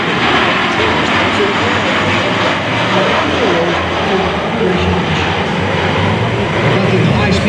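HC-130J Hercules turboprop making a high-speed, low-level pass at an air show: a steady, loud, broad engine roar that fills the whole stretch, with an announcer talking over it.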